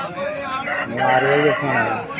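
A year-old rooster crows once nearby at a rooster market, a loud, drawn-out call that rises and trails off over about a second and a half.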